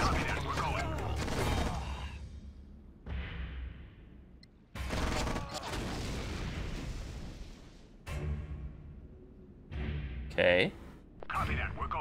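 Gunfire during a battle in the real-time strategy game Act of War: Direct Action, heard as loud bursts of shots and booms in several separate bursts, with gaps of quieter sound between them and voices coming over the combat.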